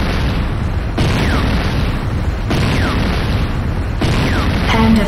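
The Hand of Nod structure blowing up in the video game Renegade: a continuous loud rumbling roar of explosions broken into three heavy surging blasts, with faint game voice cues underneath.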